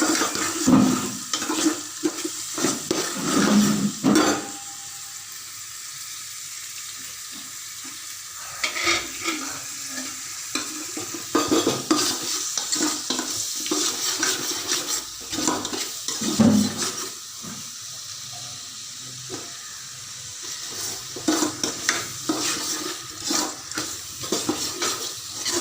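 Ghee-coated food stirred in a pan in a home kitchen, with intermittent scraping and clatter of a spoon against the metal and a soft sizzle between strokes, close and moderately loud with no talking.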